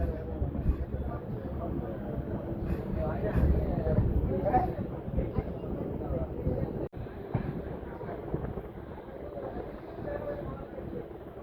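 Vivek Express train running, heard from inside a general coach, a low continuous rumble and rattle of the carriage with voices talking over it.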